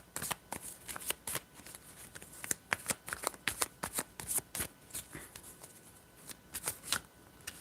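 Tarot cards are shuffled by hand in quick, crisp riffling bursts, a run of sharp papery slaps and flutters repeating close up with brief pauses between, no voices.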